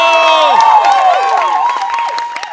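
A live comedy-show audience breaks into loud, sustained applause and cheering that fills the room and slowly tapers off, with a voice sounding briefly over it.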